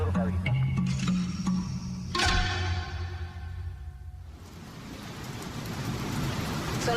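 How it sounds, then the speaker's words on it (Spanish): Torrential rain falls during a thunderstorm over Buenos Aires at night, a dense steady hiss of rain with rumbling undertones, under a voice speaking. "llueve torrencialmente en Capital y Gran Buenos Aires. Se registran tormentas eléctricas."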